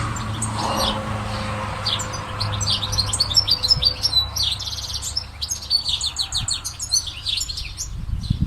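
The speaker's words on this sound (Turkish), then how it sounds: "bir tane kuş ötüyor." A small bird sings a bright, rapid series of chirps and trills, steady and fairly close, over a low hum of background noise.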